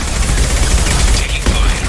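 Sustained gunfire from the video game Mass Effect 2, a dense continuous barrage of shots with heavy low rumble, loud and close, with game voices mixed in.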